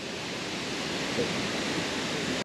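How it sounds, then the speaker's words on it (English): A waterfall in Bali roars as a steady, dense, close wash of falling water, loud and unbroken throughout with no voices. "This is an amazing place, a very underrated waterfall in Bali."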